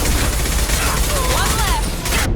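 Dense, loud gunfire rattles through a Mass Effect 2 firefight as overlapping bursts of shots and booms, with a voice briefly heard over the shooting.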